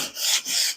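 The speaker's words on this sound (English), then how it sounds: "sanding block with some sandpaper over it to smooth out the primer" Sandpaper wrapped on a sanding block rubbing over old, gunky primer, two quick raspy strokes close up with a brief pause between them.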